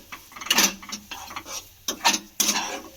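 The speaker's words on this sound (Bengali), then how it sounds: "আমি আবারও খুব ভালো করে মিশিয়ে নেব।" Grated coconut being stirred with crushed cardamom seeds in a bowl, a run of scraping, clinking mixing strokes in uneven bursts, close and fairly clear with no talking.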